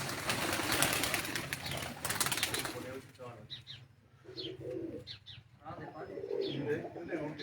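A man's flying pigeons, Pakistani racing birds, flutter and call near the microphone, a burst of wing flapping followed by soft coos and chirps, with people talking quietly in the background.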